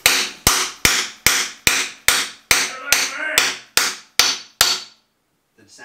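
Roughly a dozen sharp, evenly spaced hammer blows drive a crankshaft gear onto a small block Chevy 350 in a garage, each strike ringing metallically before the pounding stops and faint movement follows.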